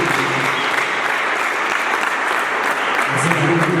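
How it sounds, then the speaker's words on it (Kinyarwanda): A church gathering's audience applauds continuously, a dense, steady wash of clapping at even loudness throughout, with no voices standing out above it. "reka turakiriza amashyi yazira"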